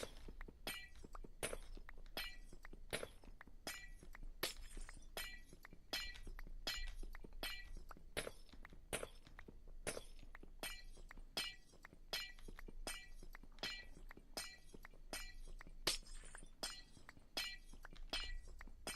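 Glass blocks breaking in modded Minecraft, a long run of sharp shattering crashes repeating at a quick, fairly regular rhythm, each brief and crisp, with no talking.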